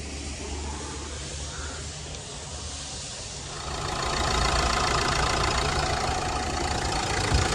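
A used crossover car, a Honda or Hyundai at a car market, starts and settles into a steady, even idle, its engine noise rising midway and holding close and continuous with no talk.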